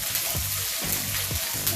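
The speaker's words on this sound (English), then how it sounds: "Let's saute it in oil." Green chili sizzles in hot oil for sabudana khichdi, a steady close hiss with a few soft stirring scrapes, no voices.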